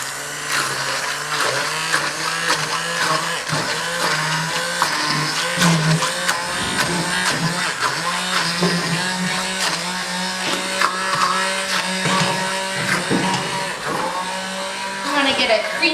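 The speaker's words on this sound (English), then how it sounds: "And then we're gonna go ahead and put our blender in here." A blender whirs continuously while an Indian dish with potatoes and garam masala is being cooked, a steady, dense motor hum running throughout with a person talking over it.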